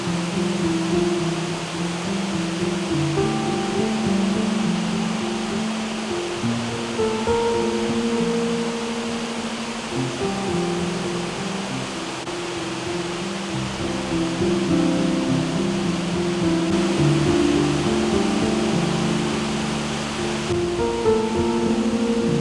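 A river waterfall at Rock Island State Park rushes loudly at high water levels, a dense, steady roar of churning water that fills the scene continuously for over twenty seconds with no voices.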